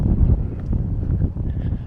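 Gusty wind blows outdoors on a chilly afternoon, making a steady, low, buffeting rumble across the microphone with no clear pauses.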